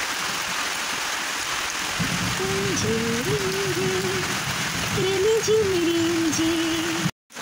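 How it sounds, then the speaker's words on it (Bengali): Steady hiss of heavy rain falling outside with thunder in the area, continuous throughout, with a voice humming or talking faintly partway through. "দেখো প্রচুর বৃষ্টি হচ্ছে বাইরে"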